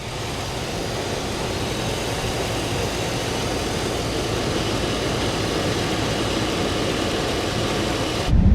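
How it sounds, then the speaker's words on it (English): A Chevy truck engine idles with its AC compressor running, producing a dense, steady mechanical drone and whir that holds evenly throughout at close range, ending with a brief thump. "Oh yeah, I can hear the compressors on now."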